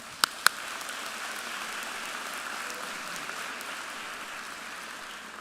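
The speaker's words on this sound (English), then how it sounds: "Graduates, please join me in a round of applause for all of your family and friends." Crowd applause at a university commencement ceremony, a sustained even patter of many clapping hands heard at a distance, with two sharp louder claps near the start.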